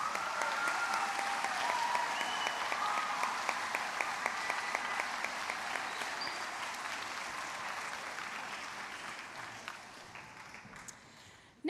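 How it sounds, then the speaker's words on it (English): Sustained applause from a school concert audience honoring student musicians, a dense steady clapping that holds for most of the stretch and gradually thins toward the end. "Let's give these students a round of applause."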